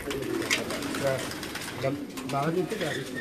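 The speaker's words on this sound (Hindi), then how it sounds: "ये हमारे उड़ान वाले कबूतर हैं, हाई क्लास" Flying pigeons of a high-class breed coo in soft, repeated rolling calls, fairly close, while people talk over them throughout.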